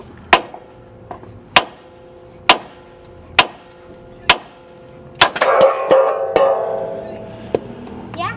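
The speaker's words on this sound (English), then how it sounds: "And then I'm just gonna hit this one with the sledgehammer." Sledgehammer blows on a Cybertruck steering knuckle during a hub and half-shaft repair: about seven sharp metallic strikes spaced roughly a second apart, close and loud, followed by clanking and rattling as parts shift.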